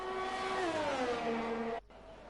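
Race cars in a racing video game roar past with a steady engine whine that slowly drops in pitch, then cuts off abruptly near the end, leaving faint background noise.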